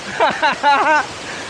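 Pabigan Falls waterfall in Pagudpud sends a steady, broad rush of falling water under loud, excited voices shouting and cheering nearby.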